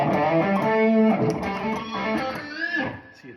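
Electric guitar through a Blues Driver distortion pedal, mids boosted, played at low volume: a few sustained, overdriven chords and notes ringing out alone, closing with a bending note that fades.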